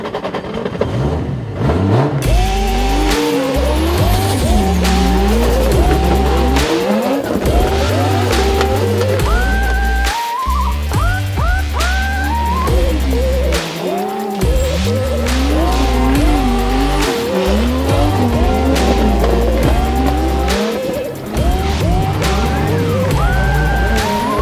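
Toyota GT86 drift car sliding with sustained loud tire squeal, wailing engine revs rising and falling, and repeated skids close by for the whole stretch.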